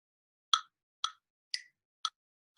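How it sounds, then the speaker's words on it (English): A phone-app metronome gives four crisp, evenly spaced clicks about half a second apart, faint and isolated against silence. "on this app here, you can use a metronome"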